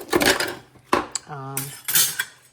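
Stainless steel kitchen utensils, including tongs, clatter and clink in short bursts as a drawer is sorted, with one brief sustained metallic ring in the middle; close and fairly loud, with no talk.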